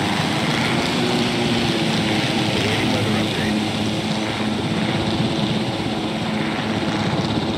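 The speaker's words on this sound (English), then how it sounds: "I didn't know you could fly the helicopter in this." A helicopter flies in the video game Jurassic Park Evolution, its rotor and engine making a loud, steady drone that lasts the whole time with no clear change.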